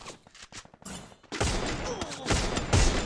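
Rapid bursts of video game gunfire crackle loudly and close, sparse at first and then dense and continuous, with a brief voice near the start.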